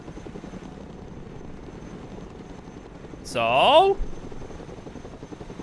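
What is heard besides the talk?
Chinook helicopter arriving, from the video game Broken Arrow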